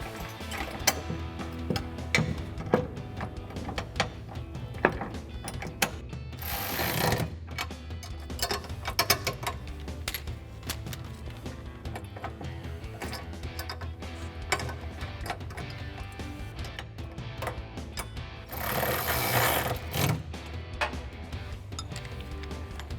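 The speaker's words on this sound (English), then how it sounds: "And now we'll take our 13 millimeter socket and 13 millimeter wrench to tighten these down." A 13 mm socket wrench tightens bracket nuts, giving a close run of rapid ratchet clicks and metallic ticks in repeated bursts, with two longer, louder grinding passes.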